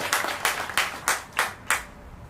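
Audience at the opening of a county diversion center claps for Oriana House, six distinct, evenly spaced claps ringing out close and sharp, as if from one or a few people, with no talk.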